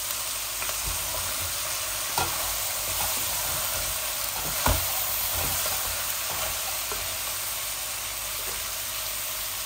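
Radish and flat beans fry in a pan with oil left over from frying rohu fish, giving a steady, even hiss of sizzling broken by a few soft stirring knocks, no voices.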